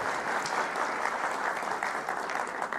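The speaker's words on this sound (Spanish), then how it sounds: "Un aplauso para ella, por favor." Dense, steady audience applause at a formal public event, a continuous wash of many hands clapping close and moderately loud, with no voices over it.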